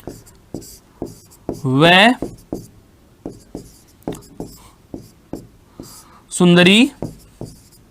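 Chalk or a marker tapping and scraping steadily on a board in a classroom, with a regular rhythm of short strokes, while someone speaks in Hindi in two loud bursts.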